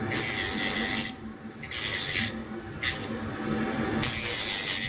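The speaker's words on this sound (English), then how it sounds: "I'm using a 60 grit sanding bit." A rotary tool with a 60 grit sanding bit grinds a soldering iron tip at light pressure in several close bursts of raspy whirring hiss, each separated by short quieter pauses.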